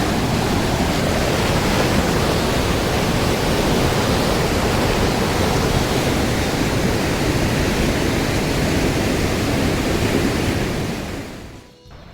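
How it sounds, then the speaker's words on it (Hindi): Rushing snowmelt water roars steadily and loudly up close, a broad constant torrent of a fast mountain stream from the Marsar and Tarsar lakes, fading slightly at the very end. "ये पानी जो है ये मारसर तारसर से होता हुआ पिघलता हुआ आ रहा है"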